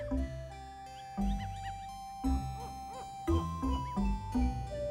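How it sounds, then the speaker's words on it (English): A snowy owl with its chick in Alaska, giving a series of deep, resonant hoots in regular rhythm, with higher wavering calls between them, clear and fairly close. "snowy owl with a chick"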